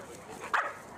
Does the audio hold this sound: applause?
no